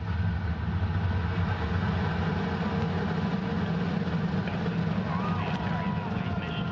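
Dense, steady roar of the Antares rocket engines at full power during launch, a broad rumbling wall of sound that holds constant throughout.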